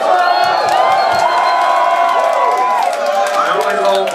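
A concert crowd at a punk show in Montreal roars and cheers loudly, with whoops and shouts layered over a dense, sustained wall of applause, up close and continuous throughout.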